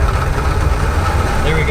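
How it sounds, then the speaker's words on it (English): A 2020 Toyota RAV4 TRD Off-Road engine hums and accelerates gently while the SUV sits on rollers, a continuous loud low drone without pauses. "Let me go into neutral, let the vehicle settle. A little bit of acceleration."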